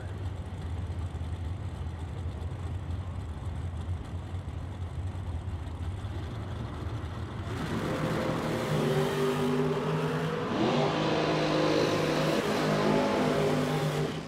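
A Super Pro drag racing dragster with an undercover chassis roars loudly through a steady engine drone, then surges into a harder, brighter launch howl that builds and holds to the end.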